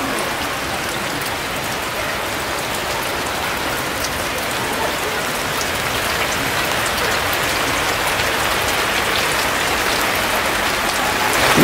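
Steady rain falls on the huts of a tribal village deep in the forest, a dense, continuous patter of drops on the surfaces that holds evenly throughout with no voices.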